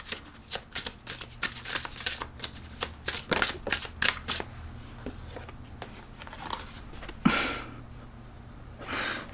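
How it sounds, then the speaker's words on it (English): An Elementals oracle card deck is shuffled close by in quick, riffling bursts of papery flicks, then a pause and a final soft shuffle. "I'm going to pull one more sort of closing card from this Elementals deck."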